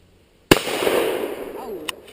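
A single hunting shotgun blast cracks sharply and loudly nearby, then rolls away in a long decaying echo, with a faint second pop near the end.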